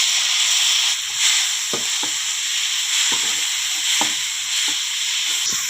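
Bitter gourd and onions frying in a pan for a curry produce a loud, continuous close sizzle and hiss, with periodic spatula scrapes and taps against the pan, no talking.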